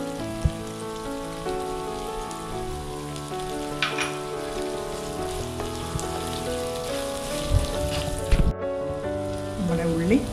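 Onions sautéing in a pan for pepper chicken curry, a steady faint sizzle running under a voice speaking throughout.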